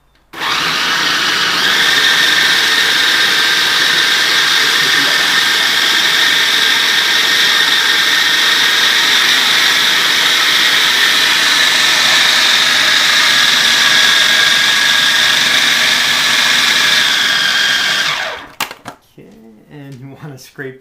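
A food processor blends a raw brownie mixture with a pinch of salt, running loud and steady for about eighteen seconds before stopping abruptly, followed by a few brief rattles.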